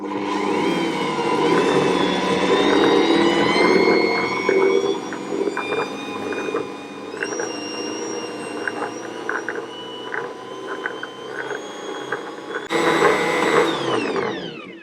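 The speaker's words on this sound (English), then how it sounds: "with my whisks in, I'm going to mix this until it's fully combined" Ankarsrum stand mixer whisking Earl Grey tea cake batter, a loud steady motor hum with rhythmic whisk tones that shift in pitch as the speed changes and rise again near the end.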